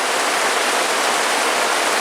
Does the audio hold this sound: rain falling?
yes